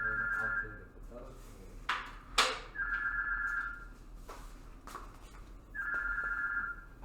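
A telephone rings in a classroom during a science lesson on dissolving solutes, three electronic trills separated by pauses, with thumps and handling clatter between them and a faint low hum underneath.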